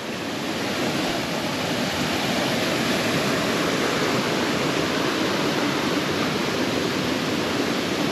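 Water rushes steadily past a small rural watermill, a dense, continuous broadband roar from close by with no breaks or voices.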